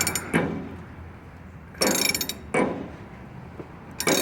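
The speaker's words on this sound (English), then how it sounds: "right now we're just using a ratchet. Eventually we'll put a hydraulic motor on this, but this moves." A ratchet mechanism cranks a ship model's yards, giving three short bursts of dense clicking with quiet pauses between them and a faint start of a fourth at the end, close and fairly loud.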